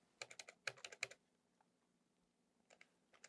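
Close computer keyboard typing: a quick burst of about ten keystrokes, a pause of over a second, then a few softer clacks near the end, with no voices.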